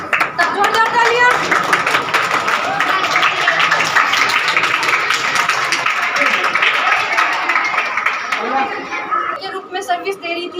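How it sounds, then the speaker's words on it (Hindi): Continuous clapping from a crowd at a school event with chatter mixed in, steady and dense for most of the clip before thinning out near the end. "जोरदार तालियां"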